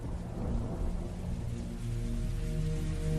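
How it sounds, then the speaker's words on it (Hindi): Heavy rain pours steadily and loudly in a forest, a dense continuous hiss with a low rumbling undertone, no voices. "जंगल में चलते चलते अचानक तेज बारिश शुरू हो गई"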